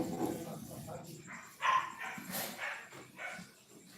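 A few short dog barks and yips, fairly faint, mixed with soft voices and background noise.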